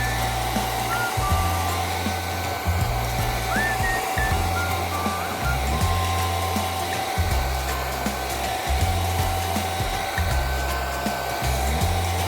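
A hair dryer blows steadily and loudly the whole time while drying the lace of a wig, its rushing airflow close by with a faint steady whine and some soft rhythmic handling thumps underneath.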